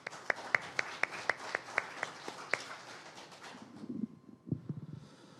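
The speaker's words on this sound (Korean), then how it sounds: "여러분, 정진환 교수님을 큰 박수로 환영해 주십시오." An indoor audience at a youth forum launch event claps to welcome a university professor, with distinct rhythmic hand claps for several seconds before they thin out and fade.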